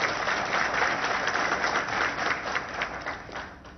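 Audience applause at a political speech by CM KCR, a dense steady wash of clapping from a large crowd that holds for several seconds and tapers slightly toward the end, with no talk over it.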